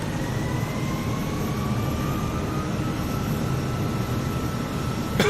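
A Kodiak 100 turboprop taxiing in Microsoft Flight Simulator gives a steady, loud engine drone with a thin whine that slowly rises in pitch, ending with a short rattle.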